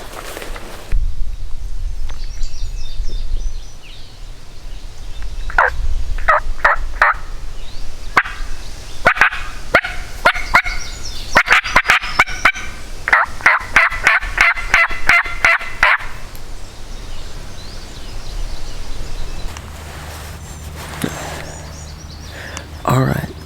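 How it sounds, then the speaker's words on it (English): Wild turkey gobbling on Kentucky public land, several rapid rattling gobbles in bursts that carry from a moderate distance across an open outdoor setting, with quiet talk in between. "Just a matter of getting one to talk, and if there's any gobblers left."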